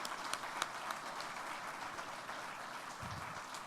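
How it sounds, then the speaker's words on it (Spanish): Applause from an audience at a business chamber event honoring Canacintra council members, faint and distant, a steady patter with a few sharper claps. "darles un fuerte aplauso a todos los consejeros que nos ayudaron, al personal de Canacintra, un aplauso"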